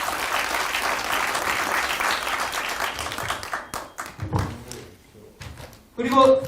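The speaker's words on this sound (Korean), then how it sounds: "여러분들 박수 한번 쳐주셨으면 좋겠습니다" A lecture audience claps together in a hall, a dense burst of applause lasting a few seconds before thinning into scattered claps, followed by quieter room noise and a voice.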